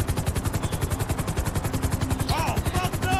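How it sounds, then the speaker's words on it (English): Helicopter in the video game GTA V, a steady pulsing rotor chop with gunfire and game effects mixed in, fairly loud throughout. "letting Trevor control the crappy controls on the helicopter"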